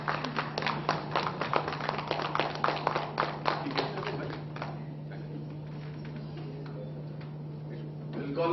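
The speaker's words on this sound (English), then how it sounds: "The frame is to give a good hands up round of applause, please," Applause from the audience at a PR Day celebration event in Kolkata, with a burst of clapping over a steady mains hum that tapers off midway, leaving faint scattered claps and murmuring voices.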